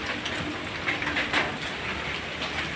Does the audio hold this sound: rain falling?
yes